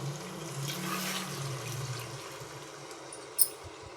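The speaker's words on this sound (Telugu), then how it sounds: "ఇప్పుడు వాటర్ వేసుకోవాలి." Continuous rushing of water pouring into a pot of cooking dal with tomatoes, fairly even and close, ending with a brief knock.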